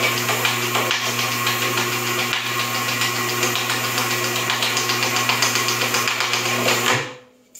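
A Cuefeed counting machine runs through thin offset paper sheets with a loud, steady mechanical whir and fine rapid ticking. It stops abruptly near the end.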